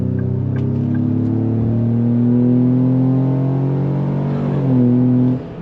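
A 2025 Ford Explorer Active in sport mode accelerates under throttle, a steady, loud engine drone rising in pitch with enhanced sound through the cabin speakers, swelling briefly near the end before easing.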